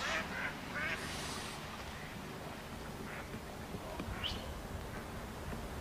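Ducks quack at a farm duck pond near a river, a few short calls scattered through a steady outdoor background of low rumble and wind.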